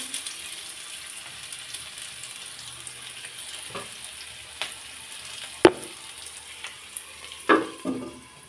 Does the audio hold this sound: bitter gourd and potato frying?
yes